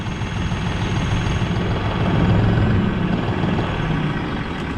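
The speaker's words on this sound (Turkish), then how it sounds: "Çok sessiz bir motor." A New Holland T3.70B common-rail tractor engine running with a steady, low, even drone close by, with no speech.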